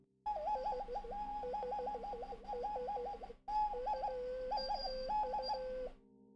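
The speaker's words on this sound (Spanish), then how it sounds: "Para que el pájaro suene le tienes que echar agua." A water-filled bird whistle toy warbles in a steady, trilling chirp, repeating in long bursts with a brief break midway, loud and close with no talk over it.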